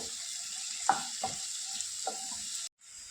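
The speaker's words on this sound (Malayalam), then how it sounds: "നെക്സ്റ്റ് നമുക്ക് ഇതിലേക്ക് തക്കാളി ആഡ് ചെയ്യാം. നല്ലോണം ഒന്ന് മിക്സ് ചെയ്ത് കൊടുക്കാം." Tomatoes stirred into a frying masala for Kerala-style crab roast, a continuous bright sizzle with a few distinct spoon scrapes against the pan, close and clear, ending in a brief cut.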